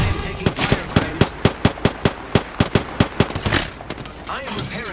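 Rapid gunfire in Apex Legends, with a burst of about twenty sharp, evenly spaced shots over three seconds, loud and close, then fading into scattered combat noise.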